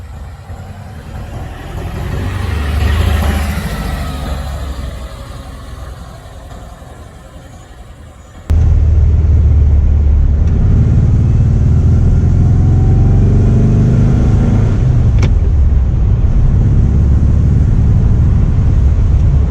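A 1.6-liter 75-horsepower Porsche B1600 Super engine in the video game Porsche Unleashed swells and fades in a rev early on, then cuts abruptly to a loud, steady, low engine drone that holds to the end.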